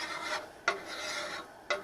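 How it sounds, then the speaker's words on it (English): A file is draw filed across the gasket surface of a metal fitting on a drill press bed: a steady, close rasping scrape with two sharp stroke starts, quiet and alone. "I'm just actually draw filing the gasket surface here"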